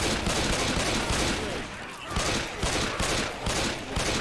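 Dense, continuous automatic gunfire in the zombie shooter Left 4 Dead 2, rattling loudly and close with a short dip midway before the rapid shots resume.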